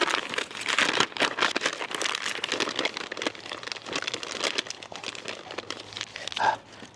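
A big sheet of paper is crumpled up close by hand, a long run of crackly crinkling that goes on steadily and alone, used as kindling for a Red Mountain Valley wood stove in a hot tent on a winter camping trip.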